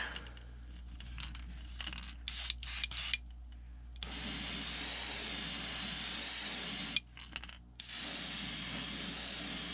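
An airbrush sprays yellow paint onto a foiled fishing glide bait in a near, steady hiss, broken by several short bursts at first, then long continuous passes with one brief pause.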